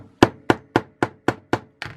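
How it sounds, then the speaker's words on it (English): A hammer strikes a screwdriver to drive a part out of a tripod ball head, giving seven sharp, evenly spaced metallic knocks about a quarter second apart, loud and close. "I'm using the hammer."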